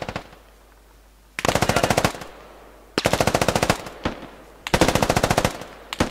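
Machine gun fire in the video game Squad comes in three loud, rapid bursts, each a tight rhythmic string of shots separated by short pauses.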